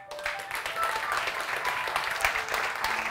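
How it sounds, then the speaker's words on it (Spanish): Audience applause greets film teams at a festival talk, a dense burst of clapping from a seated crowd that stays full and steady throughout, with faint voices mixed in. "a los 3 equipos vamos a recibirles con un fuerte aplauso"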